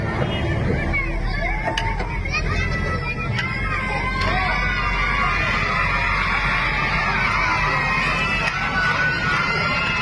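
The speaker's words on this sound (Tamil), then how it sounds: "உங்களுக்கு ஆரவாரம் அதிகமா இருக்கு" A crowd at a silambam martial arts display cheers and shouts in a loud, continuous wall of babble, with occasional sharp clacks on top.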